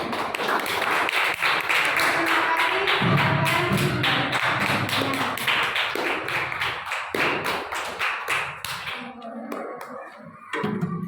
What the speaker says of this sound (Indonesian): beri tepuk tangan untuk teman-teman kalian